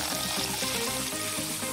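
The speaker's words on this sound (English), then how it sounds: "I'll hold it in place with this fork and pour in the egg white." Egg white poured into a pan around a cardboard heart shape held with a fork: a continuous, dense pouring and sizzling hiss, loud and steady throughout.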